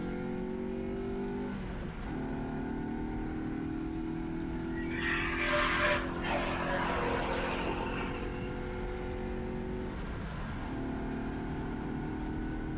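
Race cars in a ChampCar endurance race at WeatherTech Raceway Laguna Seca drone at a distance, with several engine passes rising and fading against a faint steady background.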